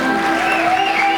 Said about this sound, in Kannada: ಹೊಡಿರಮ್ಮ ಒಂದು ಚಪ್ಪಾಳೆ ಜಿಂಚಾಕೋ